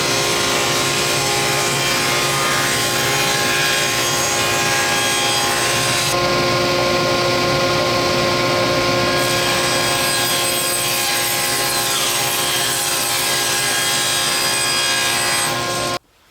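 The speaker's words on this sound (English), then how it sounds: "We're going to cut a rabbet that is going to be 5/16 of an inch deep" A table saw or similar power saw runs loudly and steadily, cutting a 5/16-inch-deep, 3/8-inch-wide rabbet along a wooden board for a cork board frame, with a dense whining drone that shifts slightly midway and stops abruptly at the end.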